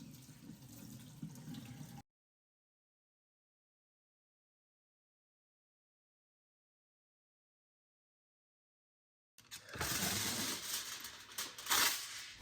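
A kitchen tap runs over food being washed in a sink, a close splashing stream at the start and again after a long silent gap, louder and more turbulent in the second stretch.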